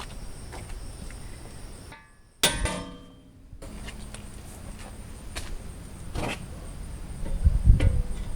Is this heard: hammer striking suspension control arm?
yes